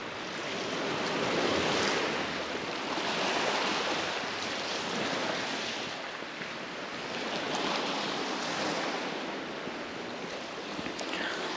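Sea waves break and wash over a pebble beach at Lazarevskoye near Sochi, a steady hissing roar that swells and falls in slow surges, with some wind buffeting and no talking.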